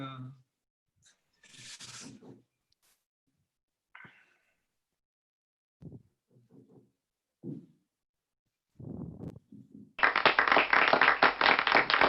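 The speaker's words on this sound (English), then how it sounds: "Allez, applaudissez-moi." Applause in an online Toastmasters club meeting arrives as a loud, dense clapping burst near the end, after scattered quiet talk and brief noises.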